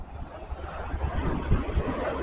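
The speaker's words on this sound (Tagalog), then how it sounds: "Laki ng alon guys oh." Large waves slapping and washing around a boat at sea during a southwest monsoon, a steady rushing wash with low thumps and wind buffeting the microphone, continuous and fairly close.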